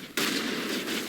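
Gunfire in the video game Mass Effect opens with a sudden sharp onset and carries into a sustained, blasting burst of shooting for about a second.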